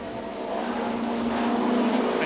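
Touring cars race at Snetterton, among them a front-wheel-drive Toyota Carina and a black BMW, in the 1991 British Touring Car Championship. The engines make a loud, steady roar that swells slightly as the cars pass.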